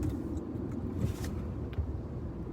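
Steady low rumble of a car on the move, heard from inside the cabin as a constant engine and road drone with no talk over it.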